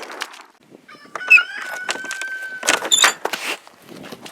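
Chickens cluck and call close by, with one bird letting out a long drawn-out crow-like note in the middle, against faint rustling.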